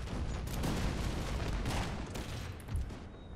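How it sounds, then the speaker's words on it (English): Musket volleys in a Napoleonic: Total War 3 mod battle at Montebello, a dense continuous crackle of massed fire with scattered louder reports, heard from a distance. "Holding on, they're firing through their little peepholes"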